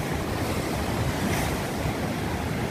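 Sea waves on Kovalam beach in Kerala during sea encroachment, with a steady, loud rush of surf and wind buffeting the microphone and no voices.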